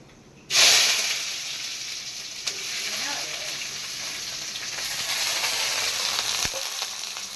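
A sudden loud sizzle as onions hit hot oil, then a steady crackling fry that continues throughout with faint stirring.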